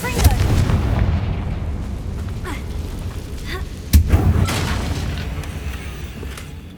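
Confringo fire spell detonates in Hogwarts Legacy, a sharp explosive boom near the four-second mark that rises above a steady rumbling game soundscape, with a softer blast near the start.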